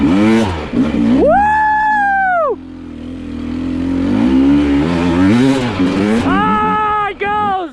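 A Beta 250RR two-stroke enduro motorcycle, the 2026 Race model, revs in sharp, rising bursts close by. A loud high whine holds, drops off, then builds again to quick blips, with a rider whooping over the engine.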